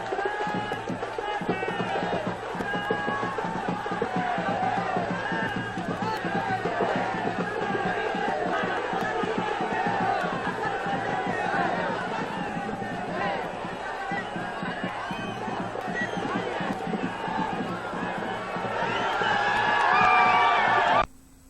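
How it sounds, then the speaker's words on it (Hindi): A huge crowd packs the streets at a road show in Rameswaram, a continuous dense roar of cheering and chatter that swells louder toward the end before cutting off abruptly. "इस रोड शो में उनकी एक झलक के लिए सड़कों पर लोगों की भारी भीड़ उमड़ी।"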